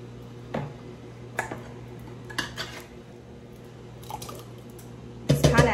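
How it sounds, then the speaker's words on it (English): Crushed canned pineapple is spooned into a pan, producing several wet plops and metallic clinks of spoon against can and pan, spaced irregularly, with a louder burst of squishy scraping at the end. "I think I'm gonna put the pineapples in first."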